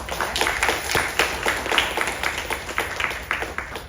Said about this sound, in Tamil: எல்லாரும் மறுபடியும் உங்களுக்கு கைத்தட்டல்.